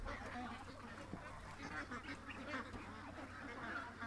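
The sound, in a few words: ducks quacking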